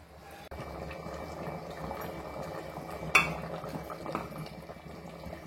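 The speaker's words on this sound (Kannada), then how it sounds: "ಚೆನ್ನಾಗಿ ಕುದೀತಾ ಇದೆ, ಹೈ ಫ್ಲೇಮ್ ಇಟ್ಕೊಂಡೆ ಕುದಿಸಬಹುದು" A pot of kadale huli, a chickpea sambar, boils hard over a high flame on the stove, bubbling steadily, with one sharp clink of a utensil partway through.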